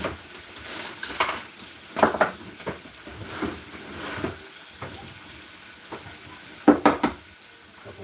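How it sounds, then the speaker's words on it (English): A utensil stirs food in a pan while breakfast is made, producing faint scraping and clinking knocks at irregular intervals over a soft kitchen background, with no talking. "Stir it up, brother. Stir it up."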